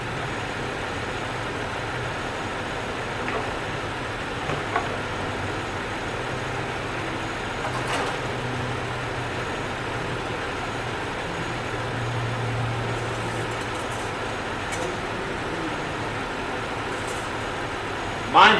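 A 2005-2009 Buick LaCrosse idles during transmission filter work: a steady, low engine hum runs continuously in the background, with a few faint clicks and knocks on top.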